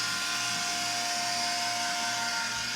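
Utility pump draining a water heater: a steady, loud, high-pitched motor whine that holds constant throughout, with no talking.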